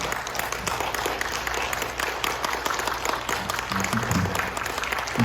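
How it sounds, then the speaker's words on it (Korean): A church congregation claps together during a Sunday worship service, a steady, moderately distant round of applause that carries on throughout, with faint voices underneath. "우리 함께 박수도 쳐주시고"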